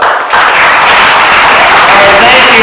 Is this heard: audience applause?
yes